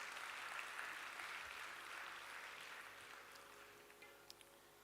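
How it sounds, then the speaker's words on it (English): Audience applause for a violinist at a Bharathanatyam dance arangetram, a soft, steady wash of distant clapping spread evenly across the whole stretch without any voices. "Let's have a huge round of applause for Sri Sai Kolanka Garu."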